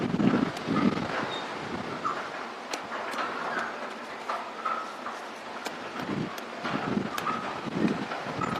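Strong wind gusting outdoors at Starbase, Texas, a continuous rushing roar with buffeting surges and scattered rattles and clicks throughout.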